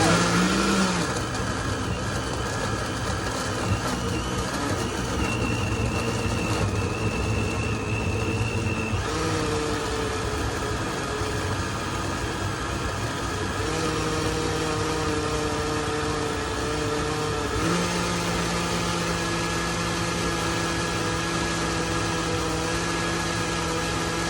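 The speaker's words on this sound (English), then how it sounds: "I had just added 2 avocados inside my blender with the salsa." Blender whirring as it purees two avocados into salsa, a long continuous loud motor drone with slight shifts in pitch as the load changes, steady throughout with no talking.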